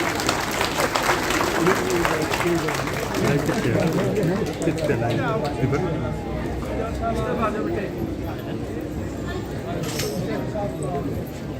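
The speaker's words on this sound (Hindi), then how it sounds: "एक बार तालियों के साथ इन बच्चों का अभिवादन।" A crowd of audience members applauds the children performers from Nagchala at a stage event, with a dense wash of clapping that is strongest at first and then thins, while a voice talks over it.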